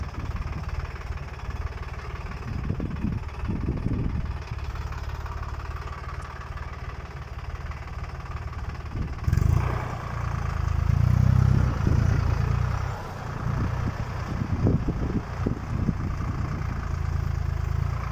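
A Başak 2060 tractor engine idles with a heavy low rumble, then revs up louder partway through, chugging unevenly.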